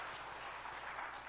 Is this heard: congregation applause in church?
yes